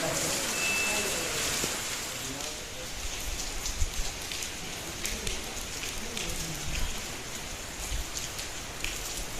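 Steady rain patters on surfaces at Mt Samat National Shrine in Pilar, Bataan, with scattered drops and a faint voice in the background.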